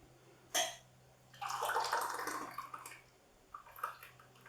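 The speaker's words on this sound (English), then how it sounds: "as this is all pretty hot, we want to pour it into our jar" Hot homemade chilli jelly poured from a pan into a 200ml glass jar, a short knock followed by a longer wet, splashing pour with a few trailing drips, close and moderately quiet.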